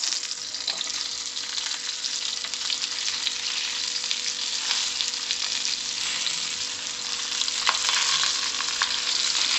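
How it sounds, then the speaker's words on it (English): Stuffed brinjal (bharwa baingan, UP style) fries in hot oil in a pan, giving a steady, close sizzle with occasional crackles that runs unbroken throughout, with no talk. "My oil is hot. Now I'll be frying like this."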